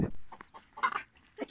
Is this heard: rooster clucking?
yes